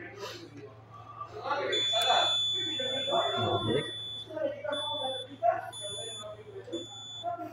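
A steady high-pitched fire alarm tone from a Notifier fire detection and alarm system under test sounds in repeated bursts over ongoing conversation and background noise.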